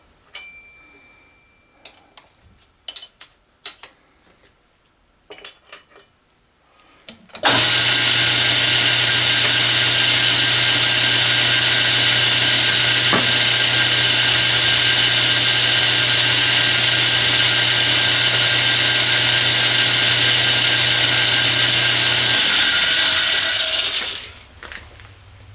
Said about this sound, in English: now I'm going to center drill it